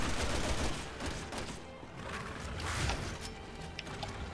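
Sustained rapid video game gunfire from Resident Evil 6, dense continuous automatic bursts at steady loudness with no talk over it, during a fight on a train.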